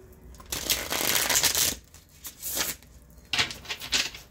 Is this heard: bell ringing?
no